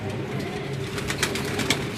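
Pigeons at a pigeon club in Dera Ghazi Khan coo softly among steady bird chatter and background hum, with several brief brighter calls standing out near the end.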